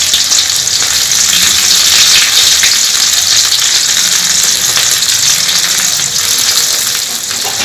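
Onions and curry leaves frying in a pan for a crab dish, a steady loud hiss and crackle of hot oil that continues evenly throughout with no voices.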